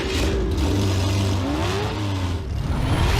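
A Chevrolet Camaro engine rumbles loud and steady, its pitch rising and falling as it revs, with no talk.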